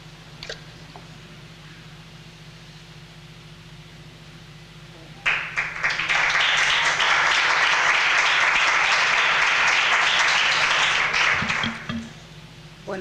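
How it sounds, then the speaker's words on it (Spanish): Audience at a Spanish public health conference closing ceremony giving sustained, dense applause for around six seconds that starts abruptly and stops, preceded by quiet room tone with a low hum. "haya escuchado este aplauso"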